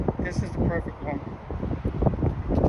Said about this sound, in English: As normal, it's always windy when I decide to take videos.